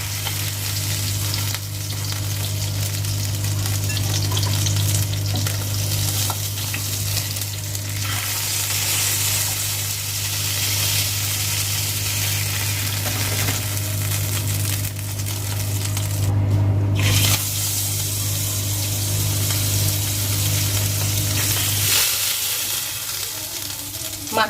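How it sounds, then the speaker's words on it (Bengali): Pabda fish fries in oil, a long, even sizzle and crackle with occasional metallic clinks and stirring. The frying stays loud and continuous and changes character near the end. "মাছের দুটো সাইডই ভালোভাবে ভাজা হয়ে গেছে"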